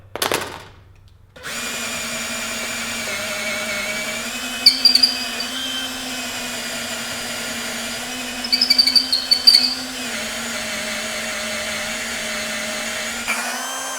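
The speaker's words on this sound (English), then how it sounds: "I'm drilling into maple" Power drill boring a hole into maple for a Windsor chair, a steady motor whine after a brief start, with short bursts of higher cutting noise as the bit bites and pulls back.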